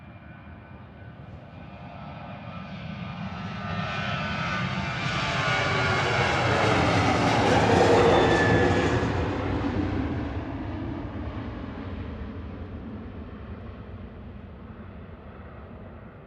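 A SunExpress jet departing Manchester Airport swells from a distant rumble to a loud, whining engine roar as it passes, then fades away gradually, heard alone without voices.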